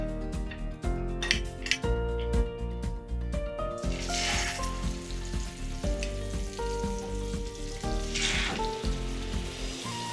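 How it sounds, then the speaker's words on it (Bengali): Hilsa fish pieces frying in hot mustard oil seasoned with turmeric, a sizzle that swells in two bursts beneath steady background music. "আর তেলটা যখনই গরম হয়ে যাবে তখন ডিরেক্টলি দিয়ে দেবো মাছগুলোকে।"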